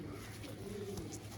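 Pigeons coo softly in a brief, faint, low burble heard at a distance, with no talking.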